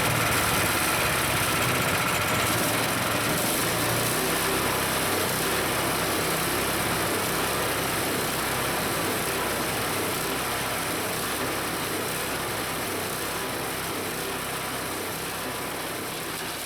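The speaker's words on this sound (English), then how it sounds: "let me quickly show you how I shred all those green leaf branches." A loud garden shredder engine runs steadily while shredding green leafy branches for home compost, a constant droning whine with no pauses or talking.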